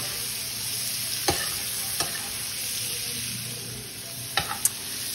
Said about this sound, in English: gonna dump my chopped mushroom right on in there with the onion. Saute those a little bit.